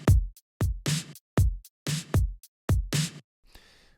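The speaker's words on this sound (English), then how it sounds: "Let's say I wanted to switch for another kick sound." Programmed modern pop drum pattern from the PRISM drum plugin: punchy kick drums alternating with bright snare or clap hits in a steady groove, clean and close, about seven hits before a short quiet tail.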